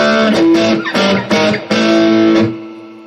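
Electric guitar chords played through a Roland Cube 40XL amp with reverb, several strummed phrases ringing out and fading into a reverberant tail at the end.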